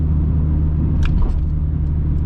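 A Honda D16 four-cylinder fitted with a Vibrant exhaust idles steadily in a low, even rumble, close and continuous with a faint brief higher blip partway through.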